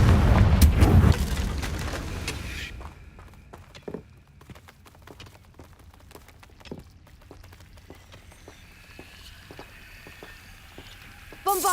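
A fiery spell blast erupts loudly in a fantasy video game, a brief heavy boom that fades into quieter ambience with scattered footsteps and small clicks.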